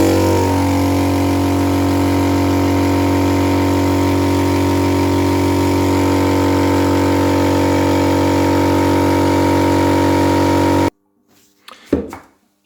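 Air compressor fitted with a plate heat exchanger aftercooler running loud and steady for about eleven seconds with a constant mechanical hum, then cutting off abruptly, followed by a brief clatter.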